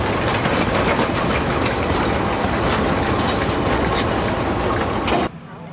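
A train with diesel engines up front and a steam locomotive behind climbs toward Arthur's Pass, a dense continuous rumble and clatter that cuts off abruptly near the end.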